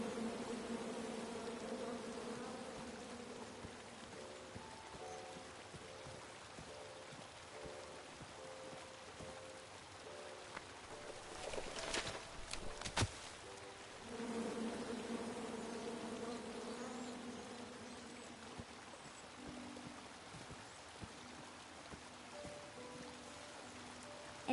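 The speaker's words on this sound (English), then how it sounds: "you chop down the tree full of angry bees" Swarm of angry bees in the King's Quest video game, a continuous droning buzz layered in several wavering tones that hums steadily for the whole stretch, briefly drowned mid-way by a harsh crackling burst, then resuming alone.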